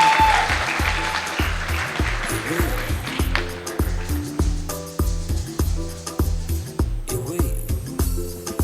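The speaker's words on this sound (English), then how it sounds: "A round of applause once again." Clapping at the Speak Out Sisters Emancipation Gala at the Creative Arts Centre, heard early and fading while pulsing music with a steady bass beat rises, along with some talk.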